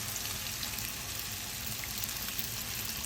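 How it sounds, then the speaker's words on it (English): Canned diced tomatoes frying in a pan, a constant close sizzle with a bright, wet crackle holding at an even level with no voices. "Now I'm going to now add some tomatoes."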